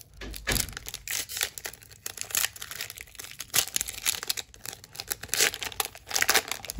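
A Pokémon card booster pack wrapper is crinkled and torn open close up, with steady dense crackling and tearing plastic over several seconds and no talking.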